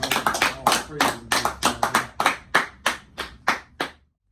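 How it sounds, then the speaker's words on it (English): A burst of hand clapping with about a dozen sharp claps in an uneven rhythm, loud and close, that stops abruptly. "give ourselves a round of applause"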